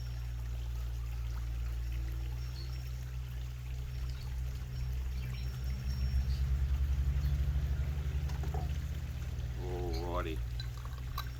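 Pickling brine poured into a jar packed with red onions, a steady close stream of liquid running for several seconds, with a brief clink and rising gurgle near the end.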